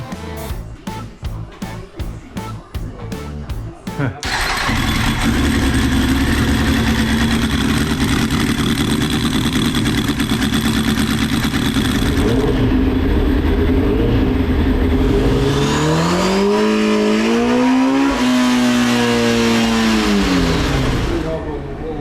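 A superbike fitted with a full Vance & Hines exhaust opens with a chopping, pulsed burst, then settles into a loud, sustained engine roar. Its pitch later swells and falls in revving sweeps.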